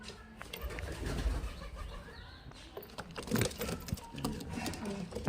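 Male Mushki pigeons, a high-flyer breed, coo softly amid rustling and shuffling noises, with a few sharper clicks and flutters scattered through; no talking.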